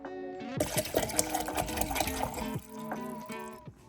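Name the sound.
filling a water bottle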